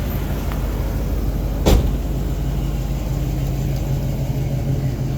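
A 1964 Chevrolet Nova SS with a 350 V8 and overdrive driving along, a steady loud engine and road rumble throughout, with one brief sharp knock partway through.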